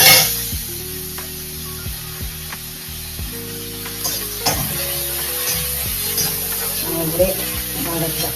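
Grated coconut sautés in a hot pan for rava idly, giving a soft sizzle broken by scraping stirs and clinks of a utensil against the pan, with a voice talking in the background.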